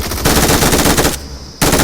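Rapid automatic gunfire in PUBG Mobile, loud bursts with a brief lull in the middle before the shooting resumes.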